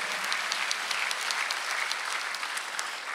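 A church congregation at a Sunday worship service bursts into sustained applause, dense steady clapping from many hands filling the room throughout.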